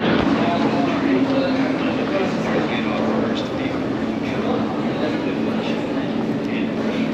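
A subway train runs on a metro line in China, a steady loud rumble and hum filling the whole stretch without a break, with faint voices murmuring underneath.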